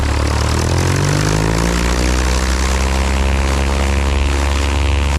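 A new Lycoming aircraft engine and propeller hold a steady run-up at 2,000 RPM, a loud, close, continuous droning roar with a layered throbbing hum whose pitch climbs briefly at the start before settling, with no talking.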